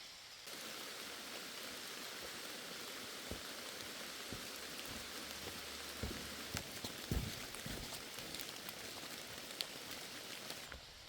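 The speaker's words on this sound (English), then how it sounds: "it's not the worst time for the rain to hit" Steady rain falls in a constant wash of hiss in Zaleski State Forest, with occasional heavier drops and faint knocks standing out against the downpour.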